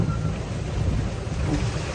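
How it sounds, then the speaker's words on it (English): Strong wind roars steadily around a small sailboat crossing the Bay of Biscay, with large waves of about twelve feet rushing and breaking beneath a dense, continuous wash of noise and microphone buffeting. "Winds are continuing to pick up and the waves are getting pretty big."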